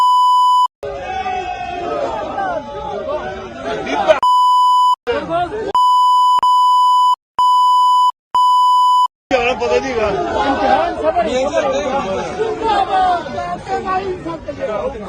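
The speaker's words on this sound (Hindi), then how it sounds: "अब मैं आपको ये थोड़ी सी बीप मैंने लगाई है क्योंकि गंदी गालियां हैं।" Loud steady censor beeps repeatedly bleep out swearing in a heated confrontation, cutting in several times over a rowdy crowd shouting and arguing in Hindi, with bursts of beeping between stretches of chaotic voices.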